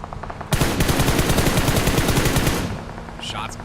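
Gunfire in PUBG Mobile on the Miramar map crackles as a loud, sustained burst of rapid automatic shots lasting about two seconds, then drops back to quieter game ambience.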